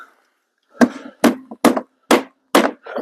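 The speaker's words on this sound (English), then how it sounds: "try the handy dandy hammer again." Six sharp hammer blows on wooden window bucks at a steady, slightly uneven pace, each a loud close knock with a brief ringing tail.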